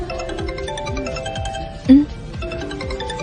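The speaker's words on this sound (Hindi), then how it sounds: "किसका फोन आ गया?" Phone ringtone playing a repeating melodic pattern of pitched tones, fairly close, with a brief louder burst midway and no speech over it.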